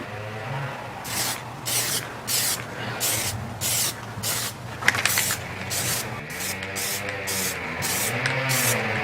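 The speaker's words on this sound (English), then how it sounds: "we're starting on our first layer of Plasti Dip" Aerosol Plasti Dip coating sprayed onto the wheels of a Lotus Elise in a thin first coat, heard as a steady series of close, hissing spray bursts of about half a second each, repeated rhythmically with short gaps.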